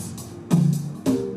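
Short digital beat skeleton with piano, percussion, drum, kick and hi-hat, heard as two loud low hits with bright top-end transients and a sustained low tone between them, no talking.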